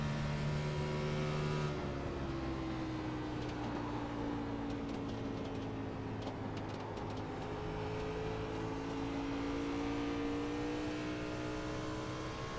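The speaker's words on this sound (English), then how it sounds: "You can hear the tires squealing coming off of turn 4." Race car engine in iRacing drones steadily while tires squeal in long sustained pitches coming off turn 4 at Darlington, the tone sliding slightly as the car works through the corner.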